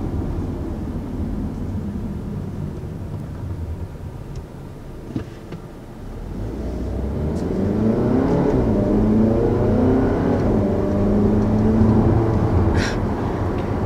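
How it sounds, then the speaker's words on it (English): A 2019 Audi Q3 in dynamic mode revs up from a quieter cruise, engine note rising and falling through gear shifts with a brief blip at each change, heard from inside the cabin. "it's not a burble, but kind of a little fart when it shifts in the dynamic mode"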